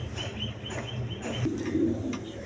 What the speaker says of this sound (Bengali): দেখেন হাই ফ্লাইং গিরিবাস কবুতর